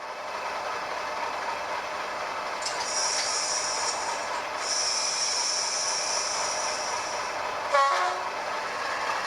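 A model railway locomotive running along a siding track, giving a steady mechanical whir and hiss with a brief higher whine partway through and a short clicking burst near the end, close and without talking.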